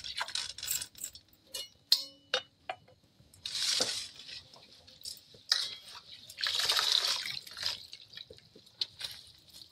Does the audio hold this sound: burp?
no